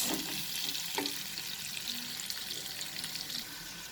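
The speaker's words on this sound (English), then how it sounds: "Fry these papayas over medium flame for 7 to 8 minutes" Raw papaya pieces fry in oil over a medium flame, producing a steady close sizzle with a few faint utensil taps, constant throughout.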